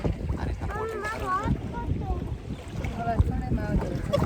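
Boat ride on the sea, with steady engine, water and wind rumble under excited family voices talking throughout.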